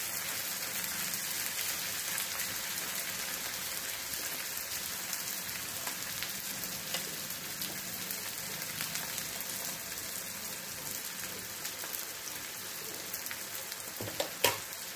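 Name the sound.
frying in oil for chicken do pyaaza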